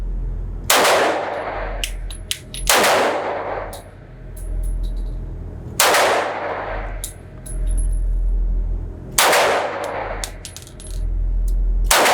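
Romanian Tokarev TT-33 pistol fired at an outdoor range, four loud, sharp shots spaced a few seconds apart, each followed by tinkling clinks of ejected brass landing nearby.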